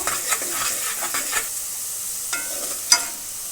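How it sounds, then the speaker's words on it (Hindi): Onions frying in a pan for mash daal, a soft steady sizzle with a few stirring scrapes and clicks of a spoon against the pan. "अभी हमने इसको थोड़ा सा कलर देना है, प्याज़ों को फ्राई करेंगे इसको।"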